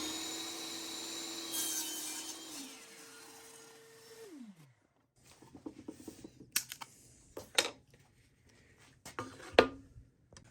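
Saw cutting a small wood block held against a miter gauge: a steady motor tone winds down, followed by faint scattered knocks and scraping as the pieces are handled.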